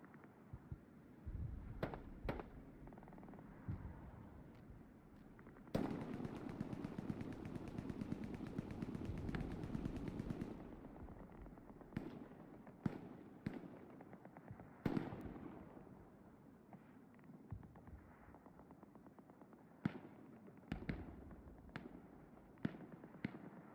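Hell Let Loose battle with a big rocket blast and gunfire: scattered sharp cracks and bursts of automatic fire at a distance, plus one long, loud roaring barrage midway, over a steady rumbling backdrop.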